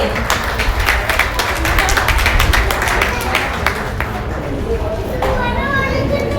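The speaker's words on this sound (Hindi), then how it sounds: "एक बार जोरदार तालियां हमारे जवानों के लिए।" An audience claps for soldiers at an indoor session, a dense burst of many hands applauding loudly for several seconds before tapering, with voices mixed in.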